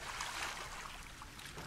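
Soft, steady water splashing and lapping as an animal swims in a pool in the zoo-building game Planet Zoo, faint and continuous without talk.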